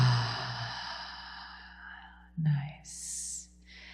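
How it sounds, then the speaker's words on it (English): A slow, deep breath is drawn in through the nose and then released in a long, soft exhale, close and intimate, during a calm guided meditation, followed by a gentler, airy second breath. "again, inhale through the nose. Exhale."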